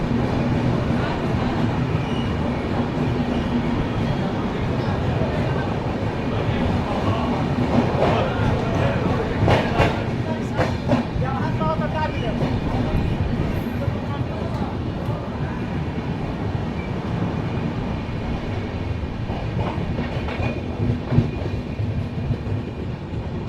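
Train 12791, on the run from Buxar to Danapur, rolls steadily with a continuous rumble and rhythmic clickety-clack of wheels on the rails, heard from inside the coach, with faint passenger chatter in the background.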